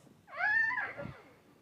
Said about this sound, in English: Your kitty's over there.